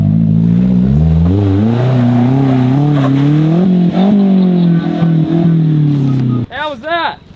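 A Suzuki Jimny engine in low range revs and strains climbing a steep off-road hill, a loud close drone rising and falling through several throttle changes before settling, with people talking over it.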